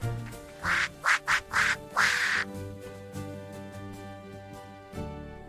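A mother duck gives a run of five loud, closely spaced quacks over gentle nursery-rhyme music, after which only the melody continues.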